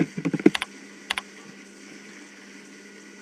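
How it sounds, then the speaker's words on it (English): A computer keyboard is typed on at close range: a quick burst of several key clicks, a short pause, then two more taps before quiet room tone. "Now I can draw my text box, type in Elmo,"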